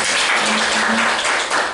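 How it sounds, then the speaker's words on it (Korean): Audience applause at a lecture on the power industry, a steady wash of many hands clapping together for the full stretch, loud and close with no talking. "다시 한번 박수 부탁드립니다"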